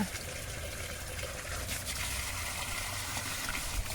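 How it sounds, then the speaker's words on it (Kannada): Released water flows and trickles steadily into a small kitchen garden behind a house, close by, at a soft continuous level. "ನೋಡಿ ಫ್ರೆಂಡ್ಸ್ ಇವಾಗ ನೀರು ಬಿಟ್ಟಿದ್ನಲ್ಲ"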